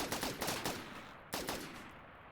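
Turrets fire in the video game Rimworld: rapid bursts of gunfire, several quick shots in a row, a pause, then another short burst, fairly loud with no talking.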